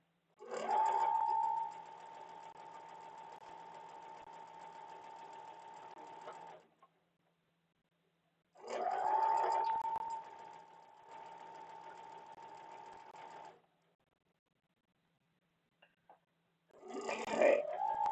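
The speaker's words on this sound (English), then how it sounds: "I'm just sewing the sashing onto this piece here." A sewing machine stitches sashing onto a quilt piece in three runs: a long steady whir of about six seconds, a pause, another run of about five seconds, then a short burst at the end, close and clear with no talk.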